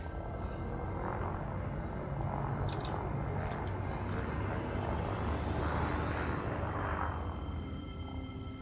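A spaceship engine in Elite Dangerous Odyssey, with the landing gear just retracted, holds a steady, dense, low rumbling drone throughout, constant and close with no breaks.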